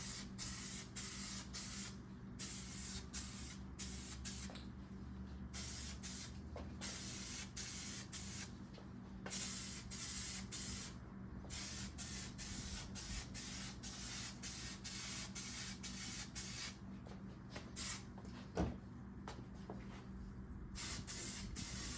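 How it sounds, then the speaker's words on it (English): A spray can or paint gun hisses steadily as paint goes onto a Ducati Monster 620 motorcycle part in a home workshop, long continuous bursts broken by short pauses, close and even in level. "We're just going to go ahead and spray from here."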